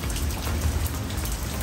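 Steady, loud rain pours close by during a drive in a 2013 gas/electric golf cart, a dense, even hiss of drops hitting surfaces with no voices.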